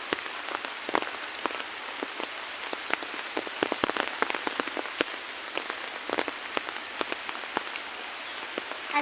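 Rain on a riverbank: steady, dense patter of raindrops striking surfaces nearby, with scattered sharper drips standing out over a continuous soft hiss, no voices.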